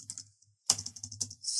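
Computer keyboard typing a group name, a few quick bursts of light key clicks separated by brief pauses, close and fairly quiet with no talking.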